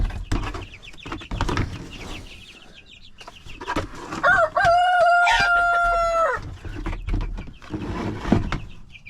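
A rooster in a backyard chicken coop lets out one loud, close crow lasting about two seconds, surrounded by clunks, rustling and thumps of coop work.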